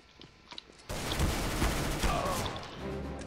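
Desert Eagle gunshots in Counter-Strike: Global Offensive, a few faint shots at first, then a sudden loud burst of rapid gunfire that sustains dense and close.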